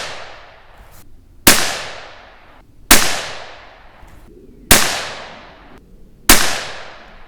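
A .17 HMR rifle fires Hornady ammunition: four sharp, loud, close gunshots at about one-and-a-half-second intervals, each cracking hard and then ringing out in a decaying tail before the next shot.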